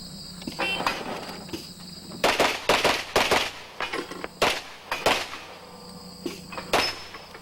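Pistol shots ring out in rapid strings on a stage at the 1990 USPSA National Championships practical shooting match, sharp cracks in bursts of several with short pauses between, heard from a moderate distance over steady outdoor background hiss.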